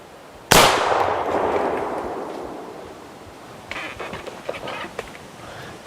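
A single sharp, loud shot from a replica Remington New Army 1858 .44 black powder revolver cracks outdoors, followed by a long ringing decay and soft background noise with faint later knocks.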